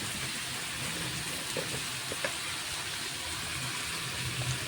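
Mixed vegetables with small prawns fry in a pan, giving a steady, close sizzle with a dense crackling hiss and a few faint clicks of a utensil, continuous with no voices.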